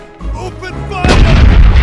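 Ship cannons in the pirate sea-battle game Corsairs Legacy, set in the Caribbean: after a short lead-in, one heavy, loud cannon blast booms out and rolls on.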